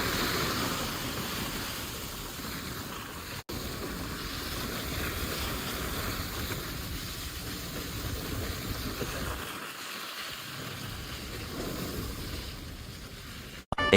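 Heavy first monsoon rain pours down as a steady, loud hiss of broadband noise that stays constant, with a couple of brief dropouts.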